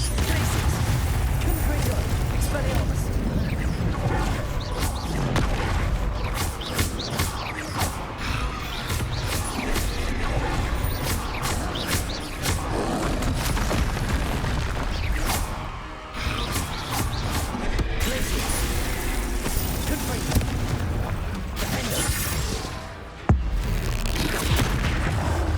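Confringo blasting spells fired in Hogwarts Legacy: dense continuous booming explosions and crackling impacts over battle noise and music, loud and relentless, with a voice calling out spell names.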